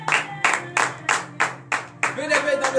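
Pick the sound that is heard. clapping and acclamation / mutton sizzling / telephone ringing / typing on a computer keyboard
clapping and acclamation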